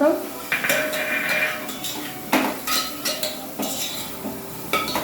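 Peanuts and garlic roasting in oil get stirred in a pan, with clanging metal scrapes and knocks of a spoon against the pan over a light sizzle, close and irregular.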